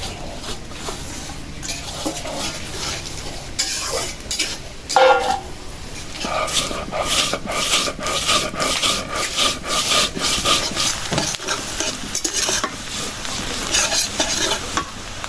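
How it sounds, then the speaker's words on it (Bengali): Fried fish tossed into a pan with garlic, onion and dried chilli sizzles steadily while a spatula scrapes and stirs in repeated rhythmic strokes, loud and close with no talking. "রসুন পেঁয়াজ শুকনো মরিচ এখানে আমি ভাজা মাছগুলি দিয়ে দিই"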